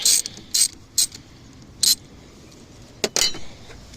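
A 10mm ratchet loosens the positive battery terminal on a GMC Sierra 1500 pickup truck: short bursts of close, crisp pawl clicks with brief quiet gaps between strokes, and no talk.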